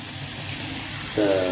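Tap water runs into a sink to chill rice noodles for a gluten-free prawn stir fry, a steady hiss that swells louder near the end of the short clip.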